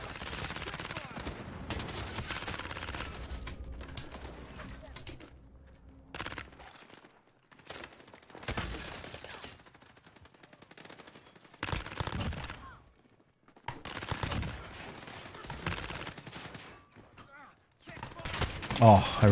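Rapid bursts of automatic gunfire from the video game Modern Warfare, played in the cramped Shipment map, come in repeated loud volleys separated by short lulls.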